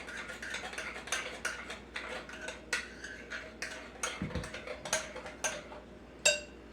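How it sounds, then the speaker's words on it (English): A spoon stirring grinder salad in a bowl, quick close clinks and scrapes in an irregular rhythm, ending with one sharper knock near the end. "Now I'm just going to stir this all up."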